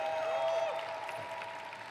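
An audience applauds at a Rube Goldberg machine championship event, steady dense clapping that fades slightly over two seconds, with a faint tonal hum underneath.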